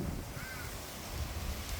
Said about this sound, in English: There's the crows there, trying to figure out where to hang out